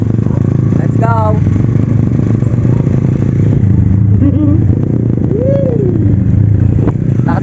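Motorcycle ride with a steady engine drone running throughout, close and loud, while people talk and call out over it.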